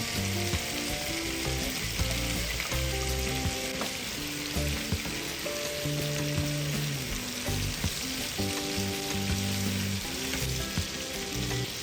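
Chicken breasts with chopped garlic frying in butter in a pan, heard as a loud, dense, unbroken sizzle and crackle close up for the whole stretch, with no talking.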